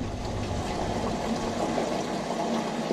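Home-brewed wort running from a Grainfather into a fermenter makes a continuous low gurgling pour with a steady pump-like hum, even and uninterrupted, heard close up.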